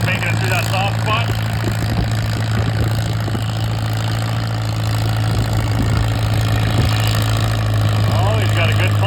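A small tractor's engine roars steadily at a tractor pull, a heavy low drone and constant rumble running throughout, with people talking and calling out over the noise.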